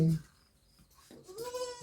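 A goat gives a short bleat near the end, a wavering nasal cry, after a brief low sound at the start and a quiet pause.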